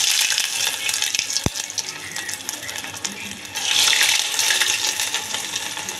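Food frying in hot oil in a home kitchen, a steady bright sizzle with stirring running throughout, swelling louder partway through, with one sharp metallic tap near the start.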